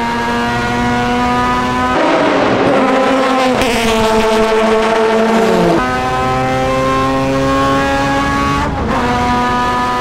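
Rotary-engine Mazda prototype race car on a lap, its high, buzzing engine note loud and close from onboard, climbing through gears with sharp shifts and a steep drop off the throttle into a corner, no talking.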